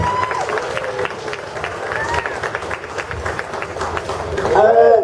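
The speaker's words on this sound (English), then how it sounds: "Big round of applause." Audience at an amateur sauce competition applauds in a steady patter of clapping, with crowd chatter and voices mixed in and a louder swell at the end.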